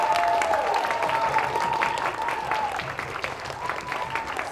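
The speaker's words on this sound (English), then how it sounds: "Please give a round of applause for the hard work as the lead protagonists." An audience applauds after a short-film screening at the Viet Film Fest, sustained, fairly close clapping from a crowded room with a faint voice and tonal hum underneath.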